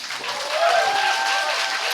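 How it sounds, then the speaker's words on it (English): An audience at a talk on outreach claps for a speaker, a short, fairly loud burst of many hands with a faint tone running underneath. "One more round of applause for Kevin, please."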